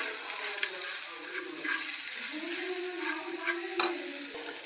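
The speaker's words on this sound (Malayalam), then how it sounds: "നന്നായിട്ട് ഇളക്കി കൊടുക്കാം." A spoon stirs mashed plantain (ripe banana) mixture in a pan over the stove, scraping in steady sweeps under a soft continuous sizzle, close and moderately loud with no talking.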